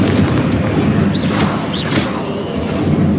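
A Confringo spell explosion in the Hogwarts Legacy video game sounds as a loud, dense, sustained rumbling blast with crackling, dense low-end roar throughout.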